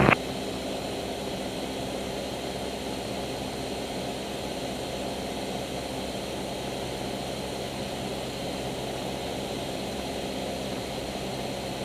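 A jet passes overhead while a small training plane is in flight at night, its roar blending into the small plane's steady engine drone, continuous and level after a brief click at the start, with no speech.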